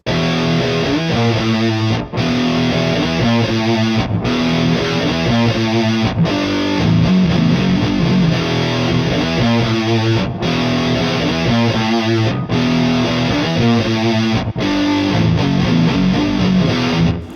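A heavily distorted electric guitar plays the main riff of a song, a chunky, repeating riff, loud and alone, with short breaks between phrases.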